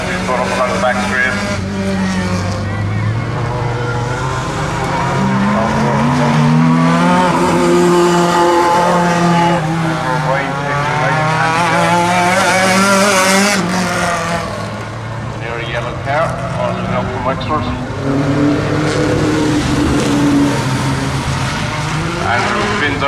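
Race cars accelerating hard along the back straight of a racing circuit, engine notes rising and falling in overlapping sweeps, loud and continuous, with a commentator talking over them.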